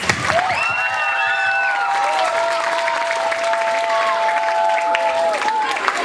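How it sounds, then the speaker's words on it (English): A school Teachers' Day audience claps for the performers and teachers at the close of the event. Dense, steady applause fills the whole stretch at an even level, with a few high tonal sounds ringing over it. "Let's give a big round of applause for all the performers and the teachers."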